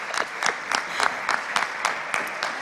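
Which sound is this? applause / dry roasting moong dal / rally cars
applause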